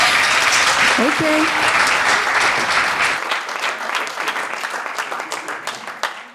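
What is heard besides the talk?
audience applause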